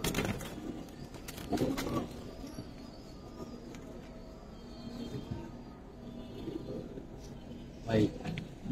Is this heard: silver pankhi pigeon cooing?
yes